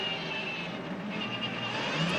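Race car engine running during an ALMS sports car race in Baltimore, a steady continuous drone with a faint high whine, moderately loud and unbroken, with no talk over it.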